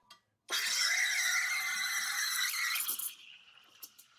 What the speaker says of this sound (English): do a little froth in here.